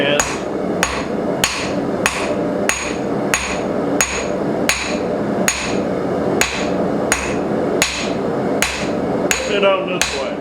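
A blacksmith forging a steel froe, hammering a single bevel at the edge of the anvil: a steady series of about a dozen loud ringing hammer blows, evenly spaced under a second apart, close up with no talk.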